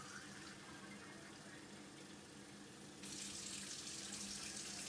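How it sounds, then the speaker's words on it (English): Hot tap water runs from a kitchen faucet while tortilla dough is being made, a quiet steady stream that grows fuller partway through. "A cup of hot water, tap water."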